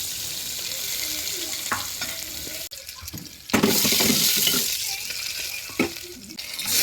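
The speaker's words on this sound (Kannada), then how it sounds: "ಈರುಳ್ಳಿ ಬೆಳ್ಳುಳ್ಳಿ ಎಲ್ಲ ಎಣ್ಣೆಯಲ್ಲಿ ಫ್ರೈ ಮಾಡ್ಕೊಬೇಕು" Onion and garlic sizzle in hot oil for a thondekayi sambar, a steady frying hiss broken by stirring clatter and a louder burst of sizzling midway through.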